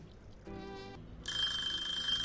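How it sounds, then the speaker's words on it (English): A kitchen timer going off in the Cooking Simulator video game, a steady electronic ringing that starts abruptly and runs on alone after a brief chime, with no talking over it. "5 grams of horseradish after this timer goes off"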